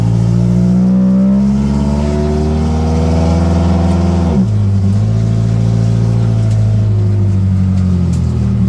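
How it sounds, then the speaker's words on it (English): Dodge Daytona stock car engine running under its own power, a loud close droning idle with a rising rev that drops sharply midway, then settles back into a steady rumble, with no voices. "first time this car has moved under its own power in a very long time"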